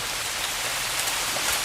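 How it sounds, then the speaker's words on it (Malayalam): Steady rain falling close by, a dense, even hiss of drops on surfaces that runs unbroken and alone, with no voices. "ഇത് പിന്നെയും മഴ വരുന്നു"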